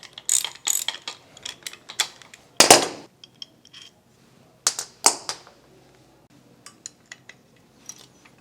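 Metal clicks and ratcheting bursts from a wrench working 12mm and 10mm bolts loose on the cylinder assembly of a Honda GXV530 overhead cam twin-cylinder engine, with sharp close taps between quieter pauses.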